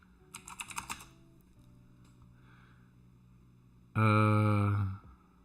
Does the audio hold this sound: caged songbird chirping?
no